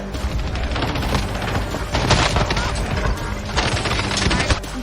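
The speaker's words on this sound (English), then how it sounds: "Why are the fireworks still shooting at me?" Repeated fireworks bursts and explosive crackles fire in a video game, dense and loud throughout with heavier flurries around two and four seconds, no talk over them.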